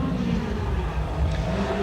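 A hot rod race car from the 1980 Hot Rod World Final roars through a timed lap, its engine a steady, continuous drone, fairly loud and unbroken for the whole stretch.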